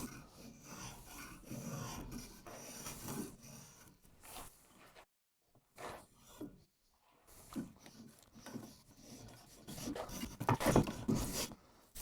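A spokeshave shaving a chamfer along the wooden handle of a traditional carpenter's mallet, close up, with repeated short rasping strokes, a brief pause midway, then more strokes.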